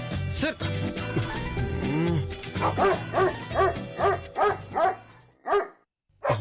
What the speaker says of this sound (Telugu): అమ్మో, కుక్కలు అరుస్తున్నాయంటే.